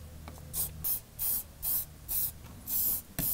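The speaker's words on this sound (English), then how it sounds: "I'm just going to go ahead and spray some of this hairspray over the area" Hairspray from an aerosol can goes over a glued model railway scenery area in about seven short, quiet hissing bursts with brief gaps between them.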